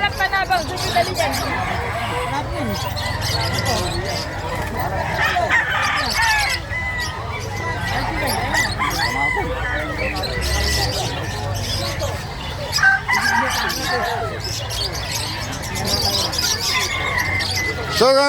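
Roosters crow repeatedly and chickens cluck amid a busy Friday poultry market in Bucawe, with steady crowd babble and people talking throughout.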